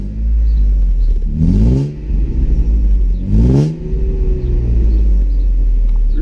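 Deep exhaust rumble at the rear of a 1997 Mercedes C-Class AMG with a 193 hp six-cylinder engine: a steady loud idle broken by two sharp throttle blips with quick rise and fall, close by and with no voices.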